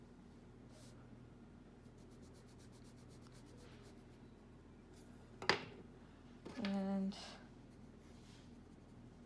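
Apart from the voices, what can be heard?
pencil writing on paper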